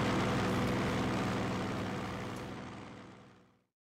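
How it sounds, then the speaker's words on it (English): Airplanes in the game Labyrinth of Galleria roar overhead, a broad sustained engine wash that holds steady, then thins and cuts off to silence near the end; no voices. "Those planes sure are loud."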